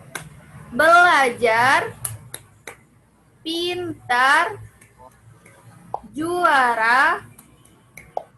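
A primary-school class does a rhythmic clap chant during a sixth-grade writing lesson. Sharp, close claps punctuate three loud chanted phrases in a steady pattern, with pauses between bursts.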